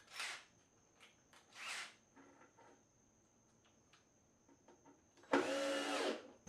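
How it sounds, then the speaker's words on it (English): A power drill pre-drills and drives screws into a wooden box, two short whirring bursts followed by a longer, louder run after a quiet pause. "pre-drilling and screwing these holes"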